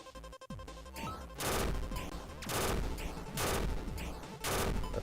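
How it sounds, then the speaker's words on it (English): Video game combat with grenade blasts and gunfire, a dense continuous barrage of booms and rattling shots that swells in repeated waves, loud and cluttered. "I just jumped into the grenades twice in a row"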